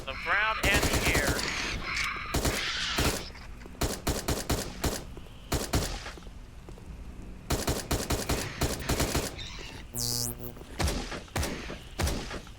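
Gunfire in the Dino Trauma video game as a shotgun blasts a horde of dinosaurs and pteranodons: loud, rapid bursts of shots in quick clusters, with brief gaps and a rising electronic tone near the end.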